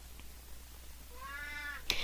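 A pet cat lets out a single drawn-out meow in a quiet room, rising partway through and ending in a brief sharp burst, with no talking over it.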